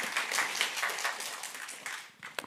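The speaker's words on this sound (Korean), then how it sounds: "우리 박수로 수고하셨으니까." A church congregation at a Sunday worship service gives a short round of applause, a soft, somewhat distant patter of many hands that thins out after a couple of seconds.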